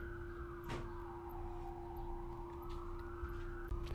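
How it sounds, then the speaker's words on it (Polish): A siren wails outside, faint and distant, its tone slowly dipping and rising over a low steady hum with a couple of soft knocks nearby. "Czekałem aż przejdą te syreny, ale nie zapowiada się na to."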